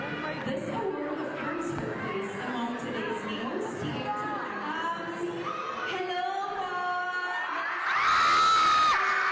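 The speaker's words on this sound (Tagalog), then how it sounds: "Grabe pala yung sigaw." A crowd of fans shouts and cheers for Barbie Forteza and David Licauco, then swells into a loud, sustained scream near the end, with people talking throughout.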